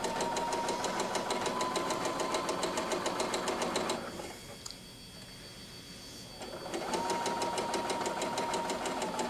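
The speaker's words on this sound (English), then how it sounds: "sew 1/4 inch on each side of the line" Sewing machine stitching quilt squares for flying geese blocks, a close, fast, steady mechanical rattle that pauses for a couple of seconds of quieter hum, then resumes at full speed.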